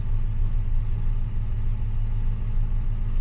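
A Rover P6 V8 with automatic gearbox, running poorly with suspected timing trouble, gives a steady, loud, low engine rumble close by with no talk, holding an even drone rather than rising sharply.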